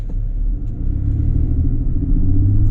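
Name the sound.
2018 Chevrolet Colorado Z71 pickup truck driving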